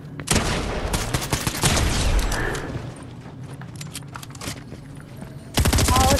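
Rapid bursts of automatic gunfire fill a battle royale video game match, loud and close, with a dense volley fading to scattered shots before a sharp renewed burst at the end.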